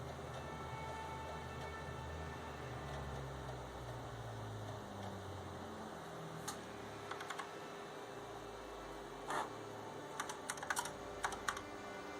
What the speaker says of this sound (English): And type debug.